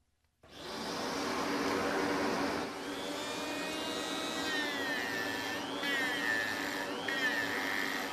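A dust extraction vacuum on an articulating boom arm switches on with a sudden roar and keeps up a steady, loud whooshing hum. The pitch shifts and whines a few times as the arm moves.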